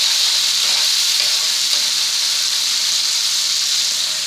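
Vegetables for masala pasta fry in a pan, a loud, close, unbroken sizzle with steady hiss from start to finish and faint stirring movements underneath.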